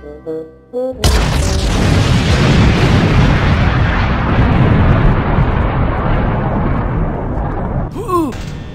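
A sharp grenade blast opens a long, loud roaring rumble of explosions that rolls on for several seconds, with a brief voice near the end, from the game Rag Days.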